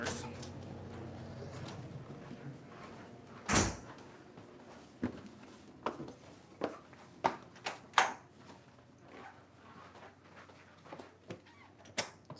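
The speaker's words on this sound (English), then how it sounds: "Let me go lock the doors." Doors aboard a docked yacht being shut and locked: a string of sharp knocks, clunks and latch clicks scattered at uneven intervals, fairly close and moderately loud over a low background hum.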